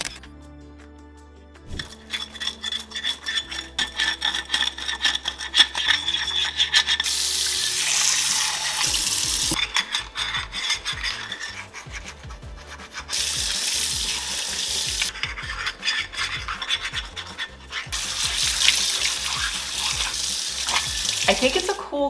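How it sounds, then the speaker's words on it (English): A dish brush scrapes a pan under a running tap, bursts of bristly scrubbing and splashing water alternating with quieter rinsing stretches, close and loud. "it was a little hard to get a grip on the pan to scrape it"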